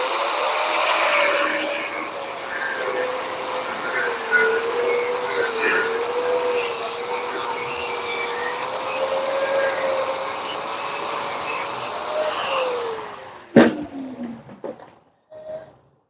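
An angle grinder cuts a length of size-21 steel stock during Volkswagen gear-shift linkage bushing and pin repair, giving a loud, steady high whine with gritty hiss for about thirteen seconds before the disc spins down and stops.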